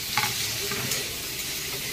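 Potato and eggplant fry in a pan for a drumstick-flower chorchori, a soft steady sizzle with a few scraping stirs of the spatula, close by and with no talk.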